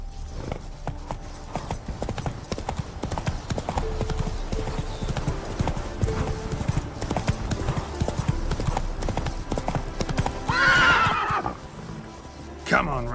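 Roach, a horse in The Witcher 3, gallops with a steady, rapid clip-clop of hooves over game ambience, and a loud whinny rises near the end.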